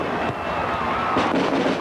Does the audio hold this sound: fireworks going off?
yes